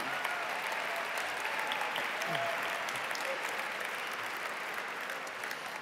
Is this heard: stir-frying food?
no